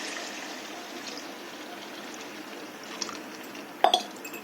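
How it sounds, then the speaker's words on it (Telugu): Water poured into a pan of Andhra-style chicken curry, a soft steady trickle and splash under faint kitchen noise, ending with a couple of small clinks near the end. "అందుకోసం కొంచెం వాటర్ వేసుకుంటున్నాను"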